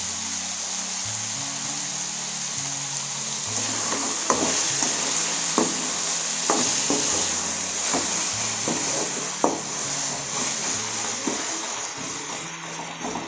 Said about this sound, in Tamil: தக்காளி வெங்காயம் நல்லா உங்களுக்கு வதங்கிட்டோம்